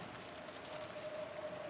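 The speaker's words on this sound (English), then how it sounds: "So the more the rain fell on Maria" Rain from the video game Umineko falls steadily as a soft, even hiss of drops on a surface, faint and continuous throughout, with a thin sustained tone underneath and no voices.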